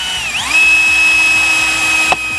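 A cordless power drill whines steadily as it drives screws to fasten a wooden clothesline post, with a rising start, a sustained high motor tone and a sudden stop near the end, loud and close.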